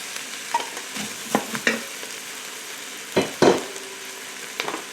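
Potatoes, carrots, celery and onions stirred in an Instant Pot, a series of scraping, clattering stirs and knocks over a faint background sizzle.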